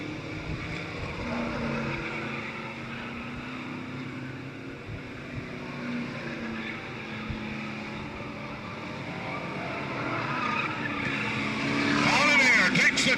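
Late model sportsman race cars lap a track in a semi-final qualifier, engines droning at a distance with a building roar toward the end while an announcer talks over them.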